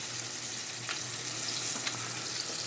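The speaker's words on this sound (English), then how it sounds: "20 minutes of me frying chicken" Chicken thighs fry in a pan with a steady, close sizzle of hot grease, and faint crackles and pops rise now and then through the continuous hiss.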